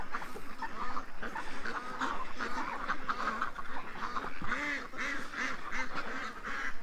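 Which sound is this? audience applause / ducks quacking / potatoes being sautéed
ducks quacking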